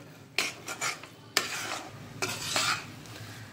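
Mung dal halwa cooking in ghee, stirred with a spoon in a pan: intermittent scraping bursts over a soft, low sizzle, fairly quiet and close.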